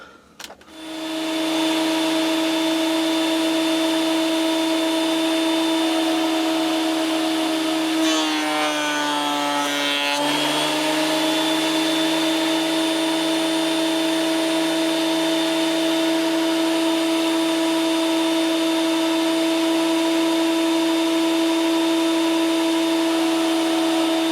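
A planing machine running with scrap wood pieces fed through it, a loud, steady motor whine with a brief change in pitch as a board passes, sustained throughout.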